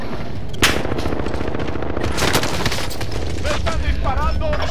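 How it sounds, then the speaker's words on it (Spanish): Gunfire in the video game Call of Duty Warzone, with rapid bursts of automatic fire and sharp single shots, some loud and close and others more distant, while a player speaks over the shooting. "¡Me están disparando!"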